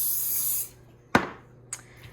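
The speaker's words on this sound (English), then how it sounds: "I'm going to spray" Cooking spray hisses into a casserole dish in one steady burst lasting over half a second, followed by a sharp clunk as the can is set down and a smaller tap after.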